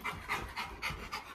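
A dog pants quickly and steadily close by, about five rhythmic breath pulses in quick succession, soft and alone.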